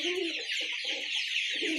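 A Bahama breed hen clucks close by in a backyard poultry coop beside egg baskets, giving a few short, throaty clucks in a brief burst with no voices.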